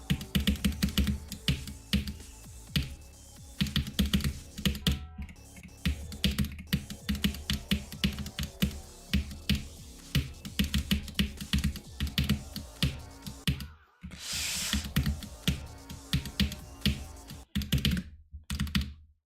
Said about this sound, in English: also my keyboard's like void clicking sometimes